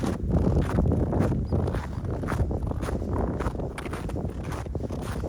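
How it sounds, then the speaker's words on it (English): Outdoor wind buffets the microphone in a steady, broadband rumble that holds for several seconds with slight surges, no voices over it. "Sorry, it's getting windy here."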